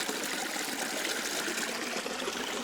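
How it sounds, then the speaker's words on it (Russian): A small forest waterfall in the taiga, partly frozen and crusted with ice, trickles and splashes steadily, filling the air with a constant close wash of running water and no voices. "Маленький водопадик."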